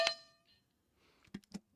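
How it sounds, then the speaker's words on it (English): A doorbell-style alert tone plays as a candidate notification sound: a bright single ding that quickly decays, followed by a few faint clicks and two short soft knocks in an otherwise quiet room. "Doorbell, isn't it?"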